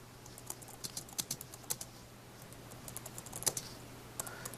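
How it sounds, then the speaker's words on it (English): Quick bursts of typing on a computer keyboard, keys clicking in irregular clusters at close range with a faint steady hum underneath. "I can just start typing."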